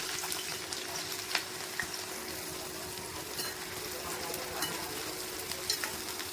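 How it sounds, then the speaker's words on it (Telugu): Sliced onions deep frying in plenty of oil make a low, steady bubbling sizzle, with a few faint light stirring taps over the continuous hiss and no speech. "ఆనియన్స్ అనేది మనం గోల్డెన్ కలర్ వచ్చిన వరకు ఫ్రై చేసుకోవాలి"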